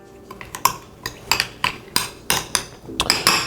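A spoon or utensil clinks and scrapes around a bowl while breadcrumbs are mixed into melted butter, about ten sharp taps in an uneven rhythm, close and fairly loud with no talk.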